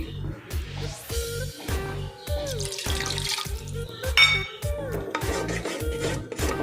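Water runs and splashes steadily into a metal pressure cooker holding rice for kheer, for several seconds, with a rhythmic low thumping in the background.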